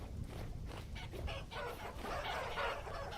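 Chickens clucking in the video game Vintage Story, a few soft, low clucks and fowl murmurs over a quiet background, fairly faint and without speech.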